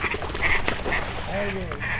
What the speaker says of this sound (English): The duck scared him off.